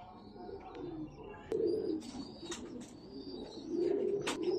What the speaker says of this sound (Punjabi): ਇਹ ਮੀਆਂ ਨਜ਼ੀਰ ਵਾਲੇ ਛੱਟੇ ਵਾਲੇ ਕਬੂਤਰ